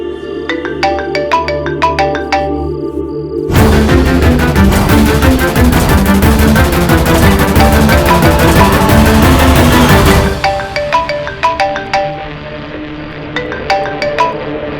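A melodic electronic phone ringtone plays loudly, with a denser, fuller burst in the middle before returning to sparse repeating tones.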